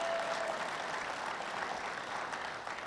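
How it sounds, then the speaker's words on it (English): An audience at an outdoor hunting gathering giving a round of applause, heard as soft, continuous clapping at a low, somewhat distant level that fades slightly toward the end. "Can we get a round of applause for that?"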